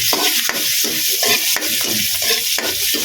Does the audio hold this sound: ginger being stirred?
yes